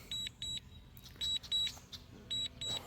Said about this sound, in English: they have this annoying beeping sound when it's coming back, when it's returning to home.